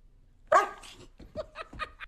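A dog barks close by, one sharp loud bark followed by several quicker, softer yips in a short uneven series.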